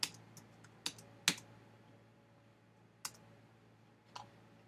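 Sparse clicks and keystrokes on a computer keyboard while entering values into a shape tool in Illustrator, about five separate sharp taps spaced irregularly over a quiet background with no voice.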